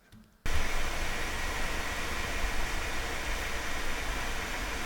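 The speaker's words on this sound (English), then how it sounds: "And here we have some white noise." A white noise sample bursts on abruptly after a brief quiet moment, then holds as a loud, flat, unbroken hiss spread evenly across the range until the end.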